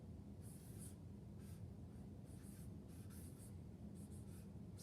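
Long division steps being written out by hand, with a steady run of scratchy writing strokes in short bursts over a constant low background hum. No one speaks.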